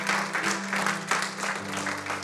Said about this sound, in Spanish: Dele ese aplauso fuerte a Cristo porque Él es bueno.